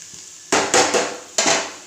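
Masala and onions are stirred in a hot pan for macaroni, with three sharp bursts of sizzling and scraping after a quiet start.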